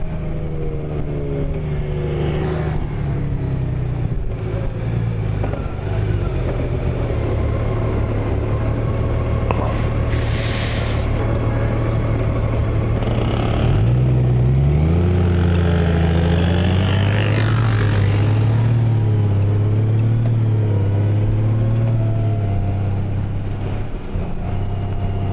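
A Honda Goldwing Tour motorcycle with a seven-speed dual-clutch transmission cruising on the road, its smooth engine drone stepping in pitch through several gear shifts, steady and close throughout with wind noise and no talking.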